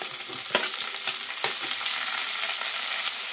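Onions frying toward golden brown in a pan, cooked with chopped chilli for a cauliflower-and-egg curry; a steady, close sizzle with a few sharper crackles and stirring scrapes, no voices.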